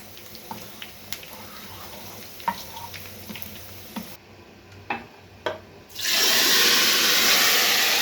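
Soft sizzling and occasional light scraping of garlic and cumin seeds being stirred in hot oil in a pan, then a loud steady rush of running water takes over near the end.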